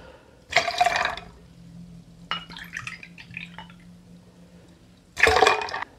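Grape juice is poured into a cocktail shaker: two short splashing bursts bracket a softer, uneven trickle of liquid in the middle, close and otherwise quiet.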